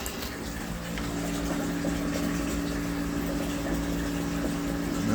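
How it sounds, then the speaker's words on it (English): Water draining out of a steam boiler makes a steady, continuous rushing flow with a low mechanical hum, close and even throughout without breaks. "But now I'm just draining this boiler down."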